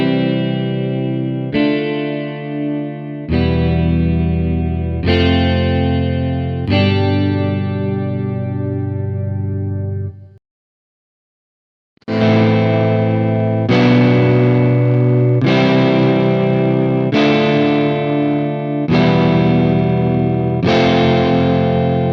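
Distorted electric guitar run through an amp simulator plugin, strummed chords ringing out one after another, loud and close, with a brief silent gap midway before the chords resume.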